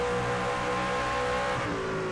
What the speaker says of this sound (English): Hard braking zone one more time.